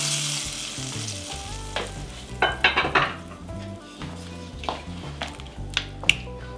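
Meatballs sizzle and fry in a soup pot, with a steady crackle broken by clinks and scrapes of a utensil against the pan.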